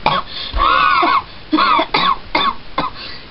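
A voice imitates a strange wheezing cough like a whistle stuck in the throat, a series of strained, raspy coughs with a whistling, squeaky tone, one long drawn-out hack followed by several shorter bursts, close and loud.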